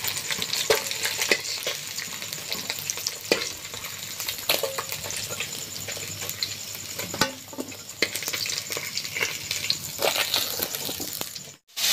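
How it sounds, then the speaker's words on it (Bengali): Catfish pieces fry in a pan of oil, spattering and popping steadily all around at moderate volume, with a few clinks of utensils, the bursts easing slightly toward the end before a brief cutoff. "মাছগুলো ভাজা হয়ে গিয়েছে, এবার তুলে নিচ্ছে। চারদিকে ফাটছে, একটু ফাটাটা কম হয়ে এসছে।"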